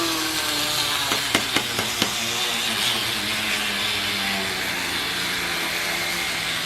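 Electric grinder whirs steadily while powdering dehydrated cooked eggs, a continuous motor hum with a few brief ticks near the start.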